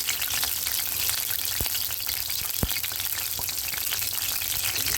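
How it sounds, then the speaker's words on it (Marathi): Crushed green chilli thecha sizzles in hot oil in a pan, a steady close hiss with a couple of sharp pops, and no talking. "तेल तापलेलं आहे. आता हा जो ठेचा बनवला आहे ना तो टाक."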